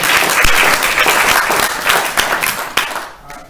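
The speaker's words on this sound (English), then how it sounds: "Can we give a round of applause for a friend of Washington?" Audience applause at a climate forum in New Hampshire, a loud burst of clapping from a crowd that thins out and tapers off near the end.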